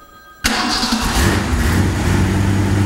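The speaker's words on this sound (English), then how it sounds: "Got a good idle quality for an engine with a big cam." A car engine with a big cam fires up abruptly on a test stand and settles straight into a loud, steady, lumpy idle that fills the rest of the moment.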